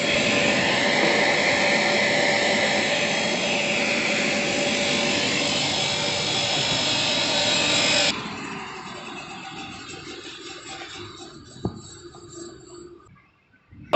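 A foam-cutting machine runs with a steady, loud broadband whir that drops sharply partway through to a quieter, uneven grinding hum with a brief sharp click near the end.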